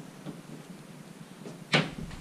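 An apartment closet drawer slides open or shut with a single brief clunk near the end, heard close in a quiet bedroom with faint background noise.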